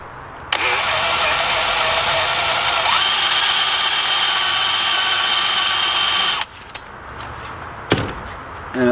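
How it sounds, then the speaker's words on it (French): A power drill with a 7 mm bit boring into the centre of a workpiece, a loud steady whine held for about six seconds, then stopping, followed by a brief short burst. "Tu viens percer bien au centre."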